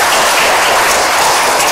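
Congregation in a Vietnamese Protestant church breaks into loud, dense applause, a close, continuous wash of many hands clapping together for a short burst.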